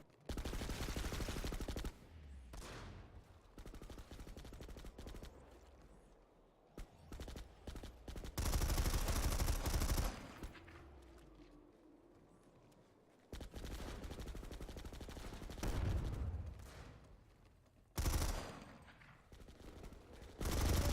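Gunfire in a competitive team shooter match, with a sniper rifle picking off kills: loud sharp shots and bursts arriving in clusters between quieter stretches, with brief gaps of near silence.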